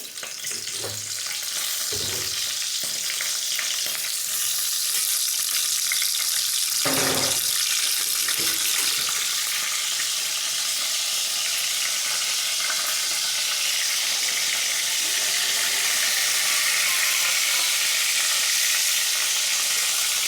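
Duck meat frying in hot oil with bay leaves, a steady, loud sizzle running throughout, with a few brief clanks of meat and utensil against the pan near the start.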